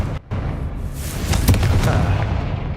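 A Confringo blasting curse explodes in Hogwarts Legacy, a short sharp pop followed by a deep booming blast and crackling debris, loud and close.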